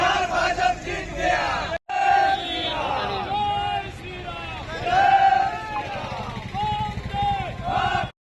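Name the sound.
party workers chanting slogans at a victory celebration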